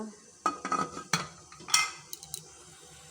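A pot goes onto a gas stove and a lid is set over it, making a series of close metallic clinks, knocks and scrapes in quick, irregular bursts, then a quieter stretch.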